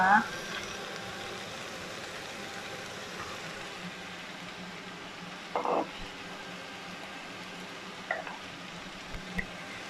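Banana stem stir-fried with shrimp paste as oyster sauce goes into the pan, a steady low sizzle running throughout with a few brief clinks of a utensil against the pan.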